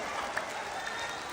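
A group of schoolchildren claps together during a brain gym exercise, a dense, steady wash of applause heard at moderate distance in an indoor room.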